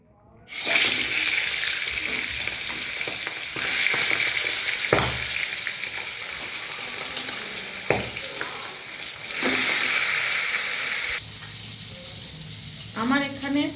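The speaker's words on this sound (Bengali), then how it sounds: "প্রথমে আমি ট্যাংরা মাছগুলোকে ধুয়ে নিয়েছি নুন হলুদ মাখিয়ে রেখেছি এখন এগুলোকে ভেজে নেব" Tengra catfish, washed and coated in salt and turmeric, sizzle loudly in hot oil in a pan, a steady bright crackle with a few sharp spits and pops and brief lulls.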